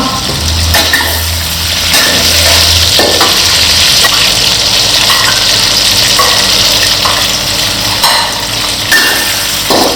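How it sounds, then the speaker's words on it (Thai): Pork fries loudly in a pan while being stirred, with a dense continuous sizzle punctuated by repeated scraping and clanking strokes of a utensil against the pan. "เราก็ต้องคนหมูในกระทะด้วยสิ"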